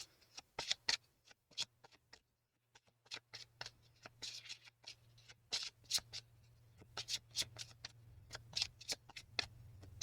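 A deck of cards being shuffled during a tarot-style energy reading, heard as a dozen quick, crisp riffling bursts in an irregular rhythm. The bursts are close and fairly quiet, with a low steady hum underneath and no talking.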